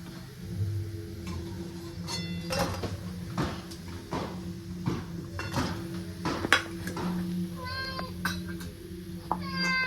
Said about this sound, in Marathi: दोन्ही साईडनं छान असे मी पकोडे तळून घेतलेले आहेत एका प्लेटमध्ये काढून घेते